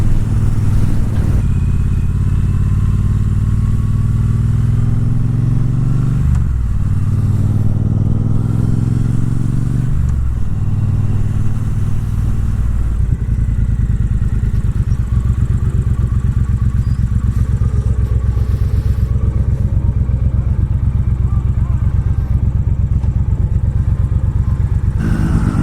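Exhaust from a Triumph Bobber Black and Street Triple RS ride on backroads: a loud, steady motorcycle engine drone throughout, with gear changes and rev swells near 6 and 10 seconds, with no talk.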